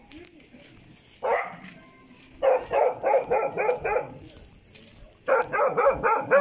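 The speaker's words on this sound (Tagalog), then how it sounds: "Ang lakas ng kaul ng aso sa atin." A dog barks in rapid bursts of several barks each, fairly close and loud, with quieter pauses between the volleys.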